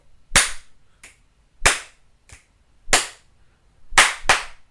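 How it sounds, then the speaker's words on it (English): Sharp hand claps and finger snaps spaced out in a loose rhythm, each a crisp, close, loud hit with short decay, including a quick double clap near the end, played alone with no talking. "I see you snapping and clapping already."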